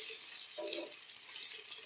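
Sliced onions and mint leaves frying in hot oil for chicken fry, a steady close hiss and sizzle filling the whole moment without pause, no talk.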